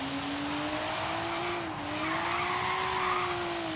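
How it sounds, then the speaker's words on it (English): A Nissan 240SX with an RB engine in Forza Horizon 3 spins its tires in a steady, continuous squeal over a droning engine note, loud and alone throughout. "Right off of the bat, spinning them tires."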